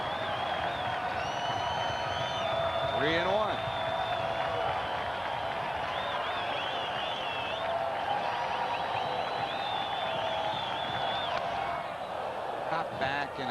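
Steady murmur of a baseball stadium crowd at a Cincinnati Reds home game against the Cardinals in 2002, with scattered whistles and calls, running under an announcer's commentary.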